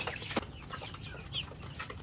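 Black Australorp and White Leghorn crossbreed chickens cluck softly on a farm, a few faint short clucks and one sharper squawk over a quiet background.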